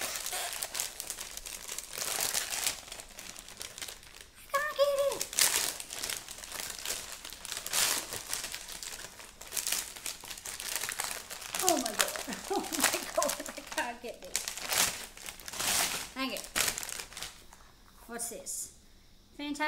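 Wrapping paper crinkles and rips in repeated bursts as Christmas presents are unwrapped up close, with people talking throughout.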